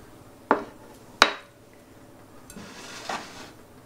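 Spices for honey herb tea being mixed in a container, heard as two sharp close clinks of a utensil against the vessel, followed by softer scraping and rustling.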